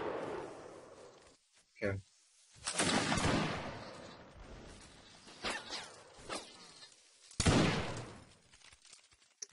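Musket volleys from a line of infantry in Mount and Blade: Warband, several loud crackling discharges fired in separate bursts, with spoken commands and chatter between them.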